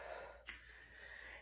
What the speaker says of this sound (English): I know you can hear me breathing.